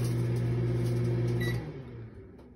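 A microwave oven runs with a flattened chip bag inside, a steady loud hum with a low drone that cuts off partway through, leaving a fading, quieter tail.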